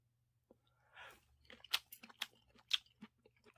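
Crispy zucchini and squid pancake dipped in soy sauce is chewed close to the mic, a quick run of sharp crunchy bites followed by softer munching, quiet and alone with no talk.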